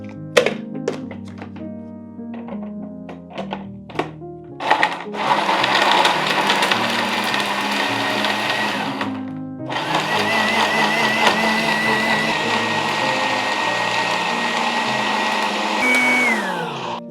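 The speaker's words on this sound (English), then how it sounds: "So let me blend this." A blender whirs loudly blending pumpkin puree in two long steady bursts with a brief pause between, after some clunking as it is set up.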